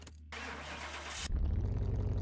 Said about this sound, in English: Let's jump inside this Camaro and see what she sounds like.